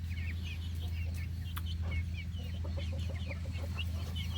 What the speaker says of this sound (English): 4 Barred Rock hens, and I think they're going to be miniature Bantam hens, or just Bantam size